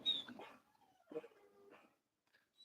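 A dog gives a few short yips and whimpers with brief pauses between them, faint and close, fading to near silence at the end.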